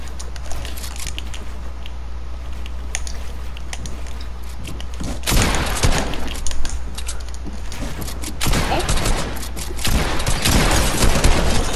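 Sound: gunfire in the video game Fortnite

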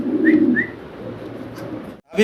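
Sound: pigeons cooing

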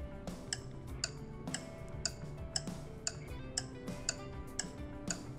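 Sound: clock ticking played from a phone

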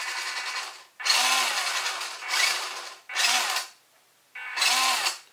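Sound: WPL D12 Suzuki Carry RC truck motor during throttle test

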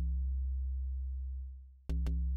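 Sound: Ableton Live Collision preset synth sound, modified with filters

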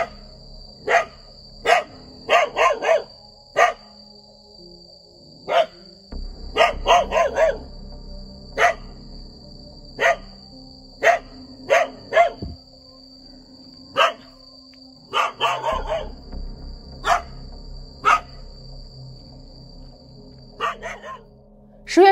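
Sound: dog barking loudly

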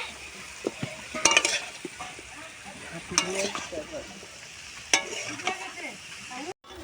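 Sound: stirring water lily stems and shrimp with turmeric in pan

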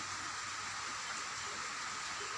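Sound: heavy rain falling

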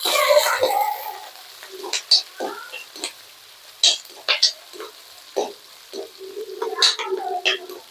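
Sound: small onions (shallots) sautéing in sesame oil for chicken fry

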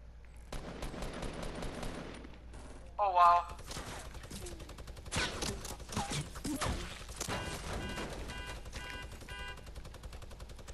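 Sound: gunshots from a crossbow video game

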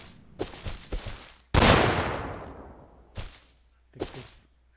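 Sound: grenade detonating on wall in Rust video game

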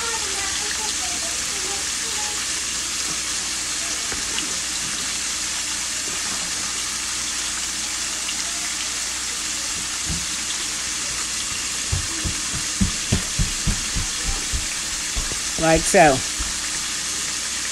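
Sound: seasoned flour frying in hot fat in a pan

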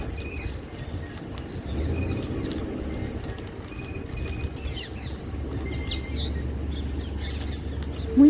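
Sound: peacock calling

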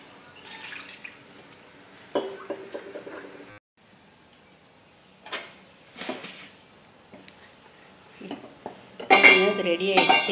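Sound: gravy boiling and stirred in pot

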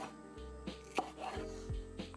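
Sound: knife cutting zucchini stems into penne shapes

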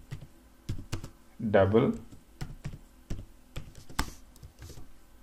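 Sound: typing code on computer keyboard

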